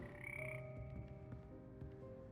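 Croaking of the magical Frog Choir in Hogwarts Legacy: several frogs croaking in overlapping low, throaty bursts, close and steady throughout, with a bright sustained tone running over them at the start.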